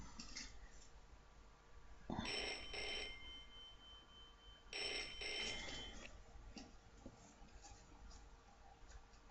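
A telephone rings in the Broken Sword: The Shadow of the Templars adventure game, two bursts of bright electronic ringing separated by a pause, fairly quiet against faint background noise.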